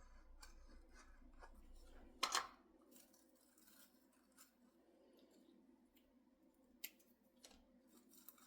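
Scissors snip craft material for a Christmas ornament, one crisp close cut standing out over quiet room tone, followed by faint handling rustles and a light click, with no voices.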